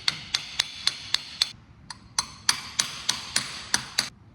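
Repeated light metallic taps on an oil slinger seated against a thrust washer on a John Deere 70 diesel tractor flywheel, about fifteen sharp, close blows at a steady rhythm with one short pause midway.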